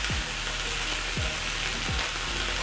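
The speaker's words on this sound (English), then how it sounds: "I'm going to wait for my onions to cook for 1 to 2 minutes." Onions coated in cooking oil fry in a pan with a steady, dense sizzle, a continuous close crackle with no talking.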